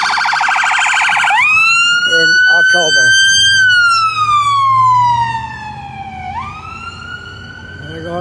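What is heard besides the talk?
ambulance siren passing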